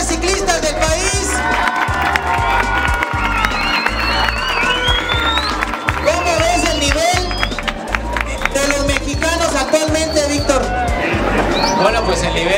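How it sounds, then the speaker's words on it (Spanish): Children applaud and cheer for Mexico's top cyclists at the Vuelta Ciclista Internacional Michoacán race in Zitácuaro, a dense, steady crowd of clapping and shouting voices that fills the whole stretch without a break. "A ver, niños, el aplauso para los mejores ciclistas del país."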